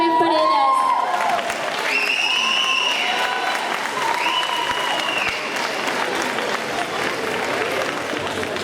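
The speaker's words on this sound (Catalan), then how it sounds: "Un fort aplaudiment per elles." A concert audience at a summer camp show applauds loudly and steadily, with crowd clapping filling the space while voices and a little cheering sound over it.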